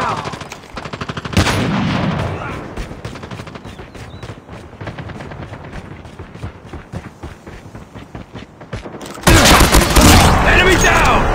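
Assault rifle fitted with an underbarrel attachment firing in a shooter video game: rapid bursts of automatic gunfire run throughout, with a burst near the start and a sudden loud, dense volley at the end, while voices call out over the shooting.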